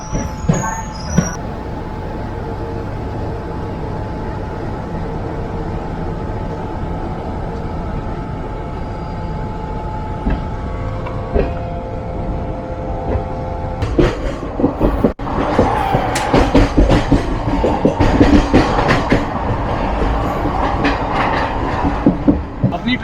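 The Yuva Express pulls out of Bandra Terminus, giving a low rolling rumble that builds partway through into louder, denser rattling and wheel clatter.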